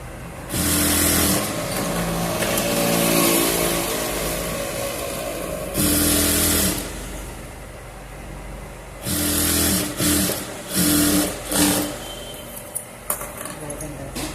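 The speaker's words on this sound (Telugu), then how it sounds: "పాదం ఉంచుకొని ఇట్లా ఒక హాఫ్ ఇంచుకి మడతేసుకొని స్టిచ్ చేసుకోవాలి" Sewing machine stitching a folded half-inch hem, running in several bursts of steady mechanical whirring with pauses in between, fairly close and loud, with a few small clicks near the end.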